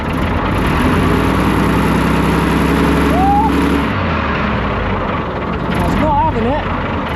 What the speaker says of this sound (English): Try and give that a rev, Tom.